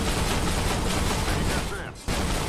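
Tank cannon fire in the video game Armored Warfare, from a BMPT Terminator vehicle, a dense loud burst of gunfire that runs almost continuously and drops out briefly near the end.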